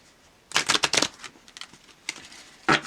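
Quick bursts of cards riffling and slapping together, a rapid flurry followed by a pause, then another short sharp shuffle close by.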